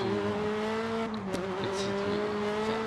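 A Volkswagen Polo rally car in the racing game Dirt Rally holds a steady, buzzy engine drone. Pitch shifts slightly as it accelerates, with a brief clatter of gravel or impact in the middle.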